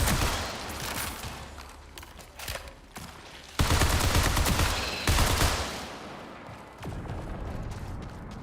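Rapid gunfire from a magnum and other guns in the Marathon video game, heavy bursts and volleys crackling almost nonstop, with louder stretches midway and a brief lull near the end.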